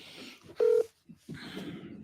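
A telephone is dialed for a call: a loud, steady electronic keypad tone sounds briefly in the middle, with quieter rustling and low background noise before and after.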